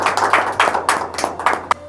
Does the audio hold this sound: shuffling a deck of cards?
no